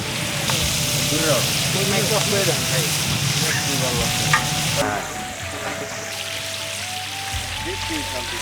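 Shrimp fry in a pan with a steady close sizzle and occasional stirring scrapes, loud and continuous throughout.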